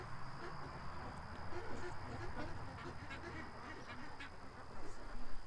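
Ducks gathered near a deck give scattered, soft quacks over a steady outdoor hiss and a constant high whine, faint and close.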